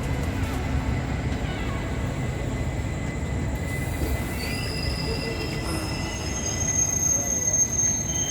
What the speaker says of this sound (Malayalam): നമ്മളത് AC കോച്ച് എത്തിക്കൊണ്ടിരിക്കുകയാണ് കേട്ടോ.